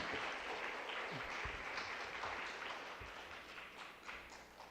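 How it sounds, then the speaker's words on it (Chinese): A church congregation applauds steadily to welcome a brother to the front, a dense, fairly faint wash of clapping that holds for several seconds and thins slightly toward the end. "我们用热烈的掌声来欢迎我们的罗志明弟兄"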